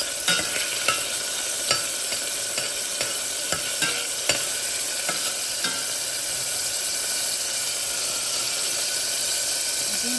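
Ingredients fry and render in hot oil as the base for a pot of beans, a steady broadband sizzle running the whole time with scattered sharp crackles and pops, close and fairly loud, no talking.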